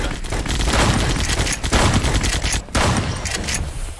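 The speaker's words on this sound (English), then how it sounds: "Shotgun is devastating." Dense, loud gunfire from a shotgun in the online shooter ev.io, overlapping blasts and booms filling the clip with barely a pause, close and harsh.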